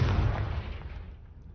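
A Confringo fire spell explodes in Hogwarts Legacy: one loud, close booming burst that rumbles heavily in the low end and then fades away over about a second.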